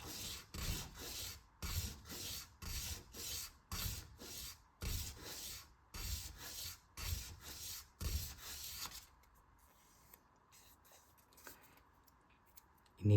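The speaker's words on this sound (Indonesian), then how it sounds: "Lanjutkan dengan amplas yang halus." Fine sandpaper rubs back and forth over a wooden airfoil rib for a model rubber-powered aircraft, a steady run of close rasping strokes in quick rhythm for about nine seconds before falling quiet.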